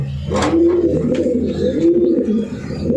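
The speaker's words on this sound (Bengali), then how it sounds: "এখানে হলো দুটাই 22 সালের কবুতর" Several caged racing pigeons coo in a steady, overlapping murmur, close by and fairly loud, with repeated rolling coos over a continuous low hum.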